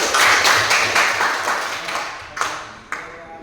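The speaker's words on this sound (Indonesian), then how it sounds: "Tepuk tangan buat kelompok 1." Classmates applaud a student group after its presentation, a burst of close, dense clapping that thins out over a few seconds, ending in two lone claps.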